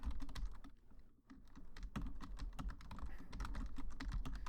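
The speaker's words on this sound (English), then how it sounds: "I'm just going to type this random shit." Rapid, continuous typing on a computer keyboard, close and fairly loud, with dense clicking keystrokes and a brief pause near the one-second mark, heard alone without talk.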